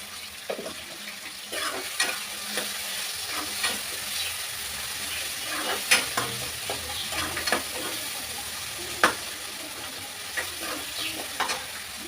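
Dal and rock salt sautéed in a pan for an egg curry, giving a soft, low sizzle broken by scattered scrapes and clinks of stirring, fairly quiet and without talk.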